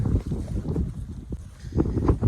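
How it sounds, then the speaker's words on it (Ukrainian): Wind buffeting a microphone outdoors by a castle, low rumbling gusts that rise and fall in loudness, with no clear speech. "Ух, йомою вітер."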